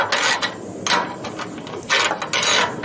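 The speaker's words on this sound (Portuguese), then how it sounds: "Você vai usar uma chave de boca normal" An open-end wrench tightens a bolt on a rooftop solar panel mount over roof tiles, giving several bursts of close metallic ratcheting and clicking with short pauses between them.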